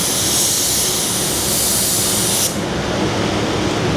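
Spray gun laying another coat of paint on a Torana car body: a loud, steady airy hiss that runs continuously, changes character partway through, and carries no speech.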